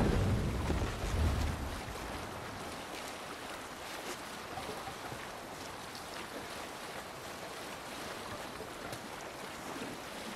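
A Viking longship under sail at sea in Assassin's Creed Valhalla: steady rushing wind and washing waves fill the scene with a continuous, even roar, slightly louder at the start, with no voices.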